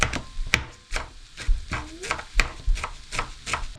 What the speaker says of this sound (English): I'm literally just going to chop through some of this wild garlic